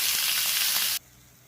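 Onions sautéing in a pan for Tamil-style chicken curry give a loud, steady broadband sizzle for about a second, then cut off abruptly to near silence.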